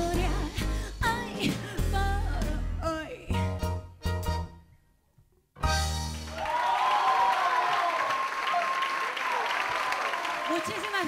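A concert audience applauds the musicians at a jazz show, a full sustained clapping swell after music fades out, fairly loud and continuous to the end.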